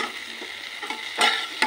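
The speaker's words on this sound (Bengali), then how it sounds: "একটু সর্ষে ফোড়ন দিলাম," Mustard seeds and dried red chillies splutter in hot oil for tempering, making a close, busy sizzle with two sharper bursts of crackling near the end and no talking.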